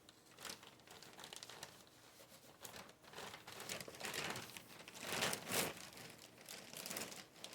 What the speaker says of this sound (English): And you'll hear plastic rustling.